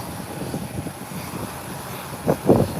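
An airplane making an extremely short takeoff and climbing steeply, a steady broadband engine roar at moderate distance with wind buffeting and a couple of louder low bursts near the end.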